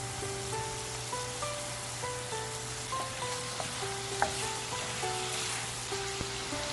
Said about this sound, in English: Continue cooking and stirring frequently until shrimp is cooked.